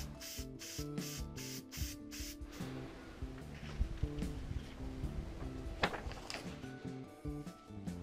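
Short bursts of spray adhesive hiss in a quick series at first, followed by rubbing and handling noises with a few sharper knocks, while building a PVC scope mount.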